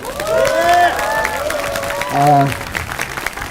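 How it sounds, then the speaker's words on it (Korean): A crowd at a Korean political rally breaks into applause, a brief burst of clapping mixed with raised, cheering voices close by that swells and then settles. "박수 한번 주십시오"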